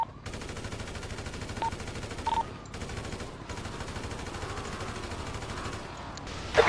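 Sustained automatic gunfire in GTA V roleplay during a large battle around a house and helicopter, a dense, unbroken rattle of rapid shots with a few brief pauses and a sharp burst at the end.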